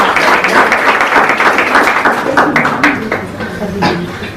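Audience applause at a Nepali poetry recitation, sustained dense clapping from a crowd that stays loud throughout and eases slightly toward the end.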